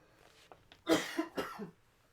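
A short burst of several harsh coughs in quick succession, close and fairly loud, then a fade to quiet.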